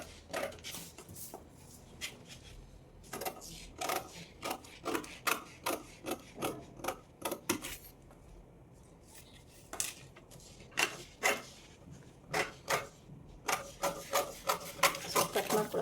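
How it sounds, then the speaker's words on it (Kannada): Scissors cut through garment cloth in a series of short, rhythmic snips and rustles, close and fairly quiet, with brief pauses between runs of cuts. "ಸೊ ಈಗ ನಾನು ಇದನ್ನು ಕಟ್ ಮಾಡ್ಕೊಳ್ತೀನಿ"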